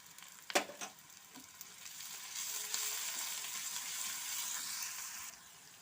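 Bitter gourd frying in a pan for a narasingha (curry leaf) dish, a brief clatter of pieces dropping in, then a steady, fairly loud sizzle that holds for several seconds before easing off.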